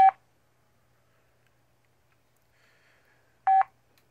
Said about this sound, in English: So you can dial on it.